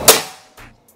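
A single sharp shot from a PCP Predator Bocap Tactical air rifle, a loud close crack that decays quickly, followed by a fainter short thump or rattle about half a second later.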